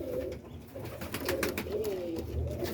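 Pigeons coo softly in a loft on a morning, a few low warbling calls rolling over a muffled, busy background with faint rustling.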